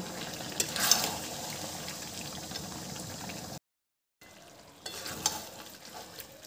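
Cashew and raisin paste being stir-fried into Kashmiri chicken in a pan, a close sizzle with scraping stirs, broken by a short silent gap before the frying and stirring return.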